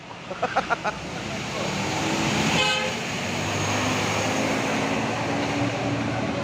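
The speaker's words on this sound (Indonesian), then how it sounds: "Nah ini salah satu bus yang melewati lintasan ini." A passing ALS intercity bus on an Indonesian road sounds a short burst of several quick horn toots, followed by a loud, sustained roar of engine and traffic noise as it goes by close at hand.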